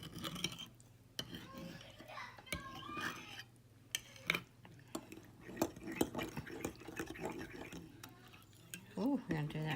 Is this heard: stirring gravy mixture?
yes